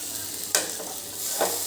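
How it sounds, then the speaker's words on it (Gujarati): Cabbage, carrot, capsicum and onion stirred and sautéing in a hot pan for veg Manchurian, a soft steady sizzle with two brief scraping stirs, no voices. "હવે આ બધું આપણે એક કે બે મિનિટ જ આને પણ સાંતળવાનું"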